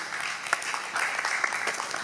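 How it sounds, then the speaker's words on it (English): A conference audience at a social media event applauds, steady clapping that fills the room at moderate level with a few sharper individual claps standing out. "Please give him a round of applause once again,"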